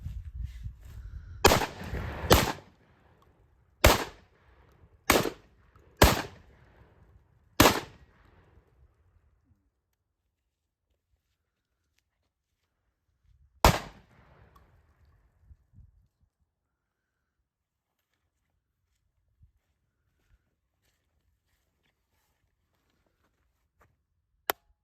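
A Beretta 1301 shotgun fires at an outdoor range, with six loud sharp blasts spaced a second or so apart, a seventh after a long pause, then near silence with faint clicks.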